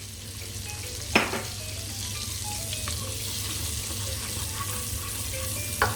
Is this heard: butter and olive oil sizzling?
yes